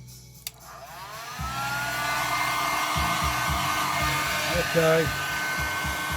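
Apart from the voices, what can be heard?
hair dryer heating a Lambretta stator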